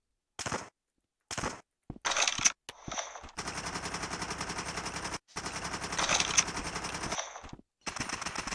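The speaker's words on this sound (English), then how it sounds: "Tommy gun." A Tommy gun fires in the Rec Room video game, several bursts of rapid automatic fire broken by short silences, then longer sustained bursts, loud and close with no talk.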